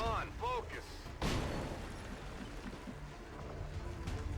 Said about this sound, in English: Well, that's a grenade.